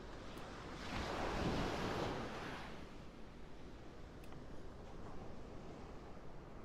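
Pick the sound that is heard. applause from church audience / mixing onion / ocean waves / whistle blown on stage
ocean waves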